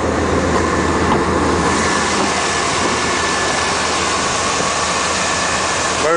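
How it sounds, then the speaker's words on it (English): GMC dually pickup truck engine idling outdoors on a cold day, a constant loud rumble and hum recorded close up, steady throughout with no voices. "let's listen to the motor."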